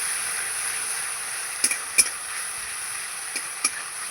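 Tilapia fish curry with mustard paste and spices cooking in a pan, a soft continuous sizzle with a few sharp clicks of a spatula scraping and tapping the pan.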